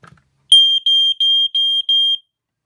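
A Kidde KD134A home smoke alarm sounds its test signal: five loud, piercing, high-pitched beeps in an even rhythm, close by, with silence around them.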